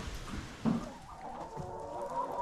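Farm chickens cluck softly and intermittently at close range, with a slightly louder burst near the start, over a low steady background.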